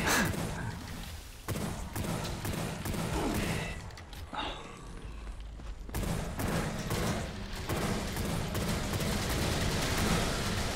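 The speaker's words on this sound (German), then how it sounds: "Ach, die explodieren, wenn sie diesen Mehrfachschuss machen." Enemies unleashing explosive multi-shot attacks in the retro shooter Wrath: Aeon of Ruin, rapid bursts of gunfire and thumping blasts in quick succession, with a short lull midway before the barrage resumes.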